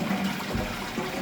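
A toilet cistern refills after a flush through a newly fitted ball valve, a steady close rush of water with a low hum and light gurgles.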